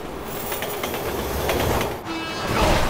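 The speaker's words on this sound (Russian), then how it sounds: "Train's coming!" A train passes close by in the Resident Evil 6 video game, loud rhythmic clickety-clack of wheels over a continuous rumble, with a brief squeal near the end.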